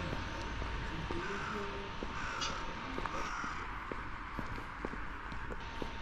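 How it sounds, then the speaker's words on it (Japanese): Crows caw repeatedly around a wooded university campus near a station in Tsurugashima, Japan, several calls rising over outdoor ambience and faint footsteps. "さっきからカラスの声が響いてるんですよね。"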